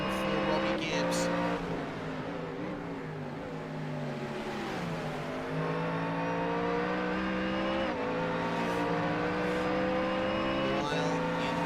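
Race cars roaring around Bathurst during the 12 Hour race while battling in the slipstream, engines howling and shifting pitch continuously up close, with a commentator's voice running over the engine noise.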